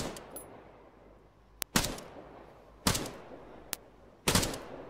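Gunfire in the Arma 3 video game, a few sharp, loud shots spaced about a second apart with brief echoing tails over a quiet background, no talking.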